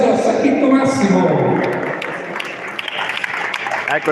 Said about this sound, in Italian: Grande applauso a Sacchetto Massimo.